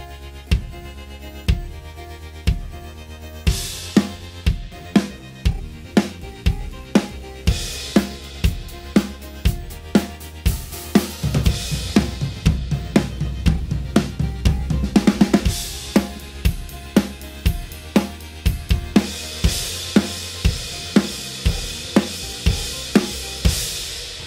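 Drum kit beat built up one element at a time, then moved around the kit with tom fills and cymbal washes, steady kick-and-snare hits repeating loudly with no talking.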